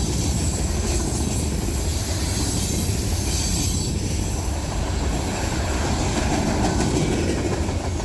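A steady, loud rumble of a CSX manifest freight train rolling past up close in New York, with continuous clattering wheels and faint metallic squeals, no voices.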